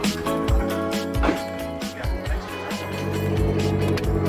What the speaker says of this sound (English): Good thing is we're test driving a car that was not previously broken.